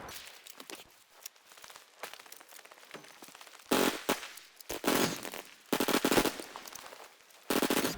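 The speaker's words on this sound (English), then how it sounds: "You can see here, I'm shooting this guy." Automatic gunfire in a Battlefield V Firestorm battle royale match, with loud close bursts of rapid shots in several separate volleys over quieter background noise.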